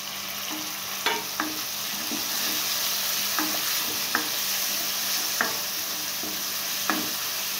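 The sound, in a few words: tomato and curry leaves sautéing in pan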